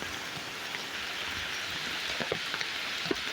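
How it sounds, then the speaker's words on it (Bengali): Heavy rain falls outdoors in Shariatpur district as a steady, even wash of hiss with occasional louder drops striking nearby surfaces, and no talking. "এত বৃষ্টি হইতেছে সৈরাদপুর জেলায় কয়েকদিন ধরে"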